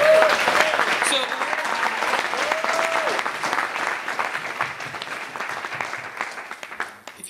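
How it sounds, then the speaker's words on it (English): Banquet audience at a community awards dinner applauds steadily for about seven seconds, a dense, sustained patter of clapping with some voices and a brief sung or spoken tone mixed in near the start, fading slightly at the end. "give him a round of applause"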